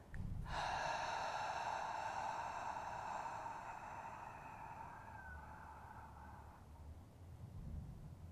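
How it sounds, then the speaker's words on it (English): A long, slow breath pushed out through the mouth, a steady airy exhale sustained for about six seconds before fading, close and clear with no talking. "Silent, slow breath in. Long, slow breath out the mouth."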